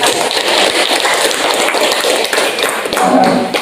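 A classroom of students gives dense, continuous applause for a classmate, many hands clapping together at close range for several seconds without talk.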